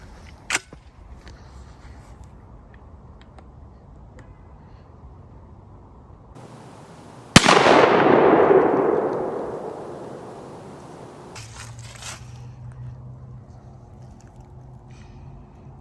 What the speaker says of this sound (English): next shot, Federal Black Cloud, 45 yards.